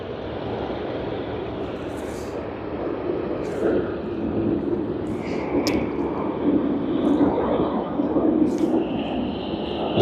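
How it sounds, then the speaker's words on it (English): A Japan Airlines Boeing 777-300ER at Sydney Airport, with a broad, steady jet engine roar that swells slightly and includes faint intermittent chirps. "The Boeing 777-300ER."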